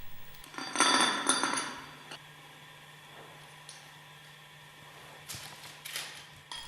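Metal parts of a Westfalia purifier bowl being handled during overhaul, a cluster of close clinks and clanks early on, then quieter scattered taps and scrapes over a low steady hum.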